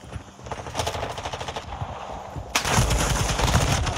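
Rapid bursts of automatic gunfire in the Call of Duty Warzone 2 shooter game, rattling steadily then growing louder and denser partway through, with no talking.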